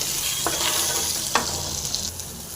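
Vegetables with salt fry in a pan for cauliflower gravy, a steady close sizzle with occasional stirring scrapes and no talk.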